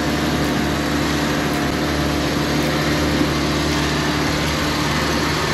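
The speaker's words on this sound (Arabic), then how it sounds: "محرك هينو، هذا سيارة كبيرة تريلي" A big Hino trailer truck engine runs steadily throughout, a loud, continuous low rumble with an even drone and no pauses, with nothing else standing out.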